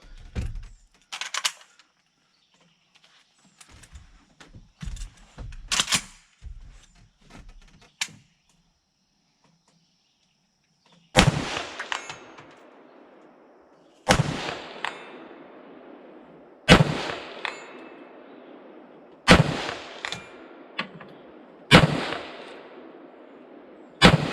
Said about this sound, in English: we got the Mini-14 sighted in at 100. We'll go straight to 200, see what we can do. That's a 12 by 20 plate.